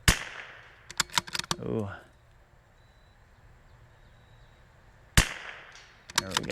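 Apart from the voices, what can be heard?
22LR rifle shots hitting a steel spinner target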